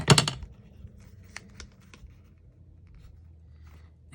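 A paper tag being cut, a short crisp snip up close at the start followed by faint light rustling and small scratchy handling sounds in a quiet room.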